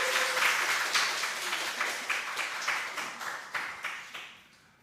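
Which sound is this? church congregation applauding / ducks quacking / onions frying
church congregation applauding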